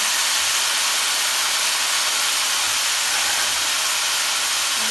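Soy-sauce-seasoned beef for a beef stew sizzling in a pot, a loud, steady, broad hiss that runs unbroken from start to finish with no voices.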